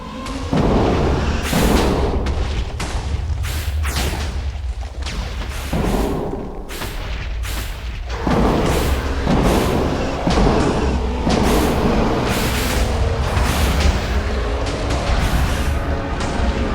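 Repeated booming blasts from Wither attacks in a Minecraft mob battle, a dense, loud barrage of overlapping explosions and crashes running continuously with only brief dips.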